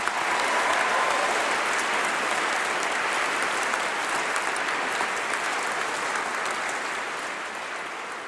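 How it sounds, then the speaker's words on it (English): A large graduation crowd at a university winter congregation applauds steadily for over eight seconds, a dense, loud, even roar of clapping that tapers slightly at the end, with no talking over it. "Give yourselves another round of applause."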